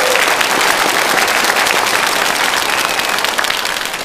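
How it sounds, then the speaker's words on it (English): A thick, bright round of applause fills the room during an awards and commander's call gathering of the 412th Test Wing at Edwards Air Force Base. It holds strong for about four seconds, then eases slightly. "How about one more round of applause for Vanessa?"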